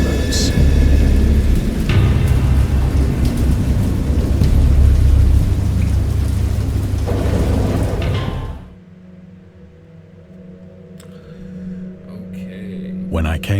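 A thunderstorm brings heavy, steady rain and deep rolling thunder, loud and close for several seconds before abruptly dropping to a quieter, muffled background with faint rumbling.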